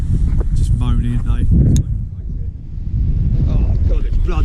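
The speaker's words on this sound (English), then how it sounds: "it's bloody windy, I'll tell you that" Strong gusty wind on a beach at Cley, North Norfolk, buffets and roars across the microphone almost continuously, with a voice speaking briefly through the rumble.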